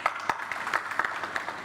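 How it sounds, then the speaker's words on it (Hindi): Audience applause welcoming a guest onto a media discussion panel, a brief burst of scattered clapping at moderate volume, with a few sharper hand claps standing out. "सिद्धार्थ पाटिल जी के लिए जोरदार तालियां"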